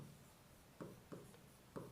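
Writing on a board during a physics lesson, three faint, separate scratchy strokes over a low room hum, close and quiet with no talking.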